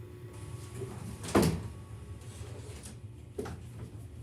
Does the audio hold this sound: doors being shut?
yes